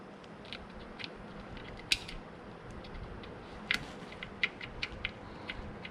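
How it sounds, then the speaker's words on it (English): Small plastic and metal clicks as a threaded seat-screw clip is fitted onto a motorcycle full fender, a few sharp close ticks scattered over faint background noise. "now we're gonna put the threads for the seat screw in with the clip"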